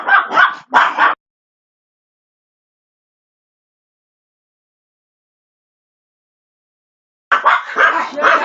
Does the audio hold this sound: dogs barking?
yes